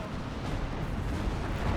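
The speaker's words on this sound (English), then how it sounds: "Ooh, man, that was a big explosion" A big explosion in the real-time strategy game Steel Division 2, a sustained, rumbling low roar that fills the whole moment without clear separate blasts and with no voices over it.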